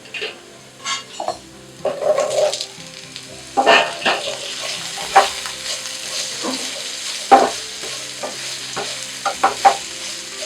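Potatoes tossed into a frying pan for a potato, carrot and peas curry and stirred, giving repeated scraping and clattering spoon strokes over a low, steady sizzle, close and fairly loud, with no talking.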